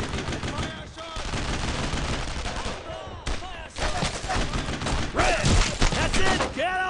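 Rapid gunfire from World War II weapons in Brothers in Arms crackles in dense bursts and volleys, loud and close, with shouted voices mixed among the shots.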